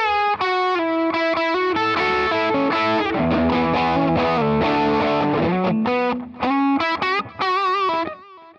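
A heavily distorted electric guitar lead runs through a lead preset on a Fractal FM3 modeler, with sustained singing notes, bends and vibrato and a chorus-like shimmer, loud and up close throughout.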